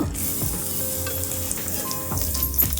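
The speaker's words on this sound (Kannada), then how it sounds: "ಎಣ್ಣೆ ಬಿಸಿ ಆದ ಕೂಡಲೇ ಎರಡು ಸ್ಪೂನು ಕಡಲೆ ಬೀಜ ಅದರ ಜೊತೆಗೆ ಕರಿಬೇವು" Peanuts and curry leaves fry in hot oil in a pan, giving a steady, close crackling sizzle that runs throughout, with a few louder pops near the end.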